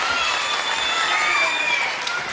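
Wrestling crowd at a UK bout applauding and cheering, a dense continuous roar of clapping and voices filling the hall at steady loudness throughout.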